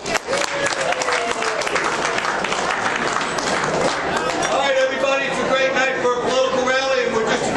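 Loud, sustained applause and cheering at a political get-out-the-vote rally as a district chairman is introduced, a dense crowd roar with voices shouting through it.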